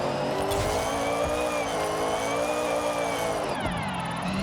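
A Mitsubishi Lancer Evolution IX drift build in the Forza Horizon racing game, its engine exhaust droning and wavering in pitch alongside continuous tire squeal, with a brief dip and recovery near the end.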